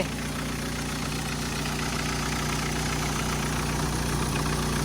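A used car's engine idles steadily and loudly throughout, a constant rumbling drone with no voices and no change in pitch or rhythm.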